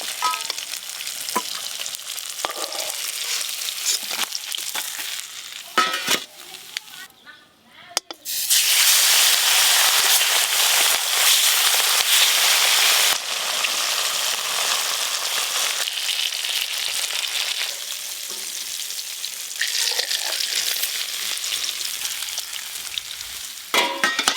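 Loud, steady sizzling of river fish frying in hot oil, with occasional stirring clatter and brief muffled voices in the background.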